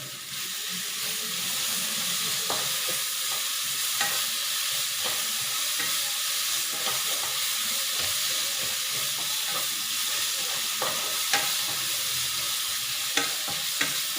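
Crushed ginger and garlic with soybean sauté in a pan, producing a continuous close sizzle with occasional scraping stirs and small pops throughout.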